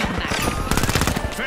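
Rapid bursts of automatic gunfire from a turret in a shooter video game, loud and dense with repeated shots, while a player talks over it.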